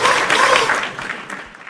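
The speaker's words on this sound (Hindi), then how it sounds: "एक जोरदार तालियां हो जाए इनके लिए" Audience applause for first-time attendees at a Hindi-language seminar hall event: a short burst of crowd clapping that starts full and loud, then thins and fades over under two seconds.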